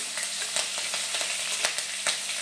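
Coarsely ground whole coriander, fennel seeds and chopped green chilies fry in oil for a samosa filling, making a soft, continuous sizzle with small rhythmic stirring ticks, faint and without voices.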